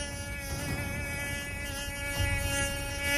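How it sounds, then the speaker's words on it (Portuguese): A buzzing insect, a bee or mosquito, drones steadily and close for about three seconds with no pauses and no talk. "Essa abelha tá mais pra muriçoca, não tá não?"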